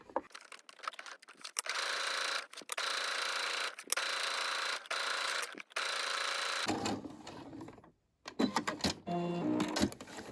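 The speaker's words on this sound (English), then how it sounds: "Let's go ahead and sew." A sewing machine stitches through fabric in a steady, continuous mechanical whir, pausing briefly a few times before stopping near the end, followed by scattered handling clicks and rustles.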